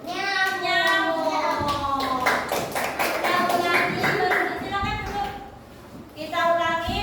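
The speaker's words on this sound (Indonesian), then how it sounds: "tepuk tangan buat kelompok" A classroom of children claps rhythmically to applaud a student group, with young voices chanting and talking loudly over the steady claps.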